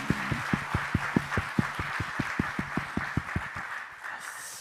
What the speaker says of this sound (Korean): 여러분 우리 방송실 박수 한번 해줍시다.